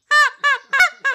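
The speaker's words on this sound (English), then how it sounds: "You don't want to just blow into the call and make it sound like a kazoo." Goose call blown straight like a kazoo, giving four short, evenly spaced nasal honks, loud and close with no voices.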